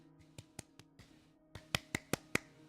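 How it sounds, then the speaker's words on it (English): Hand claps land as a run of sharp, fairly faint snaps, a few scattered at first and then a quicker, more regular cluster of about five, close and alone without speech. "You can hear me clap now!"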